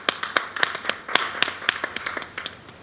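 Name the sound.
applause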